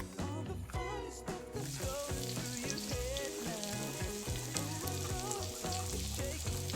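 An egg fries in a hot pan with a steady sizzle that runs the whole time, mixed under prominent background music.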